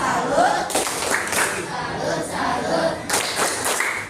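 A classroom group claps for a presenting student group in a few uneven bursts, with children's voices chattering and calling out between and under the clapping.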